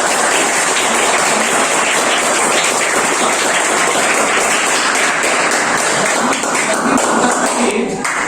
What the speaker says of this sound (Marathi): पहिल्यांदा सरांसाठी एकदा जोरदार टाळ्या द्या.